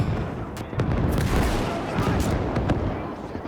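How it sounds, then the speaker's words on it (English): Rocket artillery impacts in the Gates of Hell video game, a dense rumbling barrage of overlapping blasts and crackling explosions, loud and continuous throughout. "Rocket artillery incoming here as well to clean up the center"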